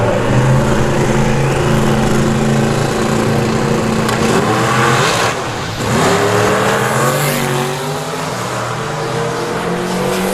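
A Camaro makes a solo drag-strip pass, its engine roaring loud and close and climbing through rising gear-change sweeps with no talk over it.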